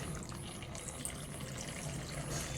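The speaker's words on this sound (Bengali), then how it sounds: "এই জন্য আমুল গোল্ডের যে লিকুইডটা নিয়ে এসেছি এটা অ্যাড করে দিচ্ছি পুরোপুরি" Amul Gold liquid milk poured into a pot of boiling milk for chhanar payesh, a steady close wash of liquid pouring and bubbling that runs throughout without talk.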